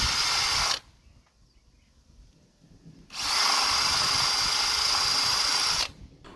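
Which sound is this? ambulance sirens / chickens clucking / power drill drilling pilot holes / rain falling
power drill drilling pilot holes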